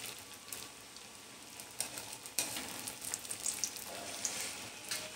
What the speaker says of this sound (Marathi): आपल्याला कमी गॅसवरच या स्माइली तळून घ्यायचे आहेत